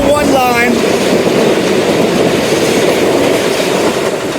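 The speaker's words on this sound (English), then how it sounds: "And here we go. We got the train again." A New York subway train on the number 1 line in Harlem rushes past loud and close, a steady roaring rumble of wheels and cars that fills the whole stretch, with a brief squeal as it begins.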